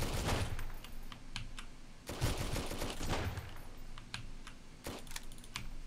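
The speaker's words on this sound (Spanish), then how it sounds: "Claramente eran escopetas." Shotgun blasts from the video game Sunkenland, several sharp separate reports spaced a second or so apart, fairly quiet overall with faint clicking between shots.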